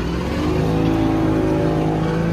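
A tractor running a maize chopper drones loudly and steadily at close range, a thick, even engine rumble with no voices over it.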